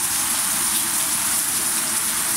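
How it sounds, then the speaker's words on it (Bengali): Steady rain pours onto potted indoor plants, some in hanging pots, set out on an outdoor balcony on an evening. The hiss is dense and continuous, close by, with no voices. "এগুলো খুব সুন্দর বৃষ্টির পানি পাচ্ছে।"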